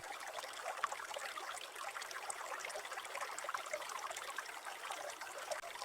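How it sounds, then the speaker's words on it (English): A babbling stream flows beside a sturgeon farm pond in Da Lat. The water trickles and bubbles faintly in a steady, unbroken wash, and no one speaks. "a babbling stream creating a truly relaxing natural sound"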